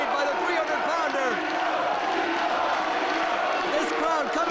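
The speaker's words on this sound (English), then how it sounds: "This crowd coming to their feet for D'Lo Brown." A wrestling video game arena crowd cheers and roars continuously as a match plays out, with a commentator talking over the noise throughout.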